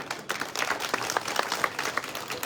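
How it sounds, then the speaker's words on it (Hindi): Crowd at a village public event for inaugurating education and development works, clapping in a lively, uneven burst of many hands, fairly close and steady for a couple of seconds. "जोरदार तालियों की गड़गड़ाहट।"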